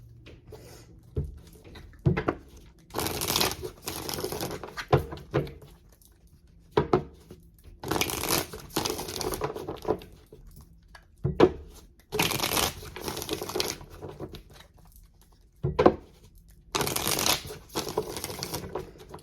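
A tarot deck is shuffled and split in repeated bursts, with crisp riffling card shuffles separated by short quiet pauses and soft handling sounds, close and clear.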